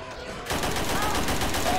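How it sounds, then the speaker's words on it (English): Rapid automatic gunfire in Left 4 Dead 2 fills the clip after a short quieter lead-in, a dense, loud, continuous burst of shots. "You are shooting me."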